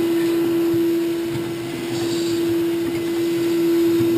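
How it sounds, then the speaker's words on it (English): A vacuum cleaner sucks dust out of a VAL6 gas-fired heater during a tune-up, a steady, loud, constant drone with a strong motor hum that holds for the whole stretch, with no talking. "We're going to vacuum out everything that we possibly can dust-wise."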